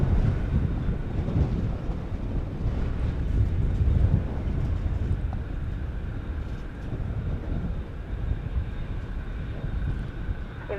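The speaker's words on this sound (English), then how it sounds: "Wind is really gusted up" Gusty wind at an airport roars and buffets against the microphone in loud, uneven low rushes, with a distant aircraft hum underneath and no talking.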